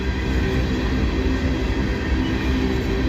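A freight train headed to Pennsylvania to load, rolling past in a loud, steady rumble of wheels and cars with a low drone throughout, close and unbroken, no talk.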